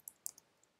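A few light, sparse keystroke clicks on a computer keyboard while an email address is entered, quiet and brief with no talking.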